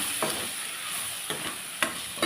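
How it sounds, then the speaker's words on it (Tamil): Spices and chili powder sauté in a pan for Sundakkai puli kulambu, a steady soft sizzle with a few sharp stir scrapes, close and moderately faint, no voices. "இது ஒரு வதக்கி விட்டுருவோம்."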